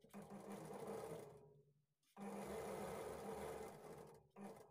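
A sewing machine stitches a blouse lining in a steady, fast whir that runs for over a second, pauses briefly, then resumes for another long stretch before a short final burst.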